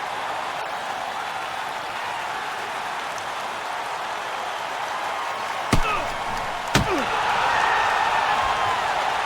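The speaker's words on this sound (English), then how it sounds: "This crowd is pumped." Roaring arena crowd in NHL 09 hockey gameplay between Phoenix and Philadelphia, a steady wash of cheering with two sharp slams partway through and the noise swelling toward the end.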